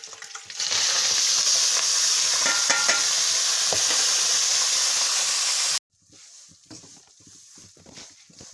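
Semolina sizzling and hissing loudly as it is stirred into hot ghee in a pan, a steady close frying roar that cuts off abruptly and returns much quieter, with no speech.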